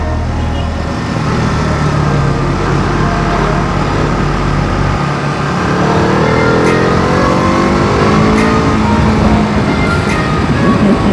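A motorbike is ridden on roads around Surat, Gujarat, with a loud, continuous engine drone mixed with road and wind rush. The engine revs climb as the rider accelerates, with no voices heard.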